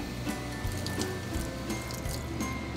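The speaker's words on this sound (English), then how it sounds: "First thing you want to do is run your glasses under some warm water." Warm tap water runs over eyeglasses held under a faucet, a soft steady stream with faint splashing and dripping, close by and quiet.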